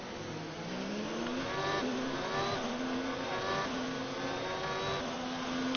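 Formula 1 cars in F1 2019 pull away from the start line, engines screaming and rising through the revs in a dense, loud pack of overlapping whines.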